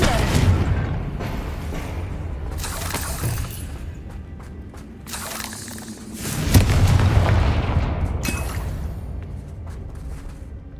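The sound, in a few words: Confringo blasting curse explosion, Hogwarts Legacy video game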